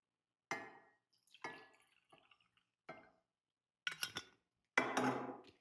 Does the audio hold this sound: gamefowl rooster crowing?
no